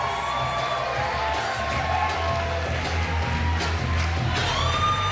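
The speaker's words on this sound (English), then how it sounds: "I'd like to get a big round of applause for Catherine Escher, escorted by Johnny Simkin" Wedding guests at a reception applaud and cheer as members of the wedding party are introduced, dense clapping mixed with whoops and yells from a lively crowd, loud and sustained over a low background hum.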